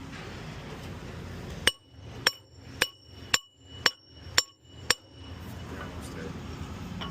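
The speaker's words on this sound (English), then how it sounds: "I should have got out my big boy hammer this time" Seven sharp, ringing blows from a hammer land at an even pace on metal while a JLG telehandler's primary lift hydraulic cylinder is removed for rebuild. The strikes are loud and close, with a quiet pause between each.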